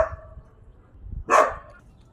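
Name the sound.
dog barking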